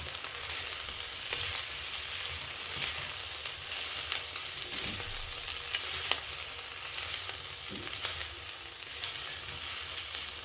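Kenyan matumbo tripe frying in a pan, a steady close sizzle with occasional scraping from stirring, continuous throughout with no voices.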